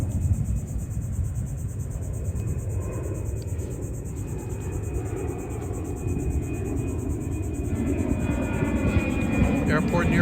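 A low, steady airplane rumble passes overhead near West Palm Beach airport beside a lagoon, a continuous broad drone that swells slightly toward the end over faint background noise.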